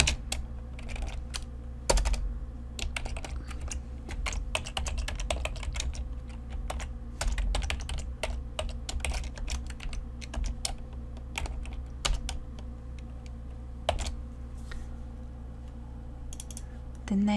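Rapid keystrokes on a computer keyboard while entering Excel VBA code, a steady run of crisp clicks with brief pauses and a few louder taps, close and alone without talk.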